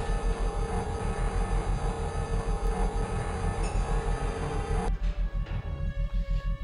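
Tram moving in the Star Trek Elite Force video game: a steady mechanical rumble with rhythmic pulsing and a high whine, continuous and close, shifting tone near the end, with no voices.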